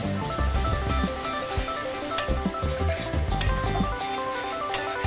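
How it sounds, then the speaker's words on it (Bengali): Spices and dried chili powder sautéed in a pan for Bengali pabda fish curry, heard as a steady close sizzle with repeated scraping stirs of a spatula, no talk. "সব কিছু খুব ভালোভাবে কষিয়ে নিচ্ছি।"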